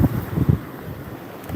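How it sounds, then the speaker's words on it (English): Strong gusts of wind batter the microphone on Pensacola Beach, giving low, rumbling bursts that rise and fall unevenly over a steady airy hiss, with no voices. "tell me what you think of the wind, because it's pretty windy"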